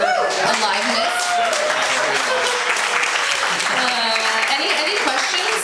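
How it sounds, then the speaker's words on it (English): Audience applause at a casual talk, a loud, dense and steady clapping from many hands filling the whole stretch, with some voices mixed in. "round of applause for your aliveness"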